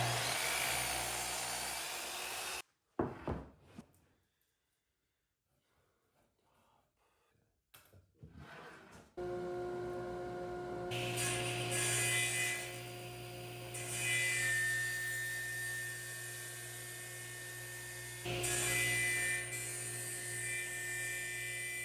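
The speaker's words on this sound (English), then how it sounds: "I'm rough cutting parts on the miter and table saw to make some glue ups" A miter saw and a table saw rough-cut a cherry board into parts for glue-ups, giving a loud, steady whine with a droning tonal hum. A brief quiet pause with soft handling noises comes before the cutting noise resumes and continues to the end.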